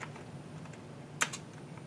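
A few faint, quick computer keyboard keystrokes are typed at a desk, with one sharper double tap standing out above the quiet background.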